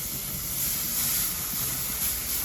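A steady, bright sizzle of New York steaks searing on a BBQ grill, a close, continuous hiss with faint crackles running throughout.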